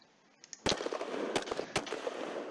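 A unit firing in the wargame Panzer Campaigns Stalingrad 42: a faint click, then three sharp, loud gunshot cracks over a sustained crackling rumble of battle.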